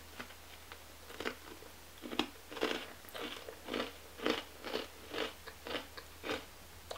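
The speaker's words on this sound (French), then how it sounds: "je vais carrément croquer" Asian snack cookies bitten and crunched up close, a string of about a dozen crisp crunching bites in a fairly steady rhythm, with no talking.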